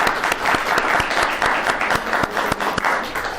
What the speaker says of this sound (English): Let's go ahead and give him a round of applause.